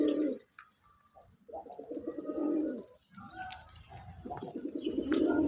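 Desi putul golla pigeons, with males calling, give soft throaty coos in several rolling bursts separated by short pauses. The coos are close but quiet, with faint chirps in the background.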